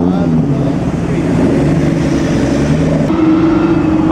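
A BMW motors past at a concours d'elegance in a loud, steady engine drone that shifts tone partway through, with voices faintly in the background.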